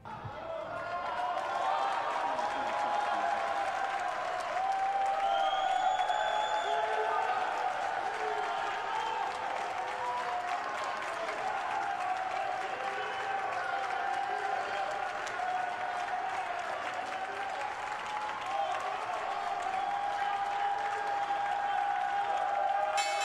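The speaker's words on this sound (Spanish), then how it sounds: "Hizo sonar la campana y arrancó aplausos entre los inversores." Investors applauding at the New York Stock Exchange opening after the bell is rung, a steady wash of clapping filling the room for over twenty seconds, with crowd murmur and a faint tone running underneath.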